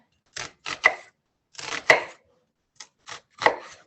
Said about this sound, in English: So I'm just gonna cut up, this onion is really large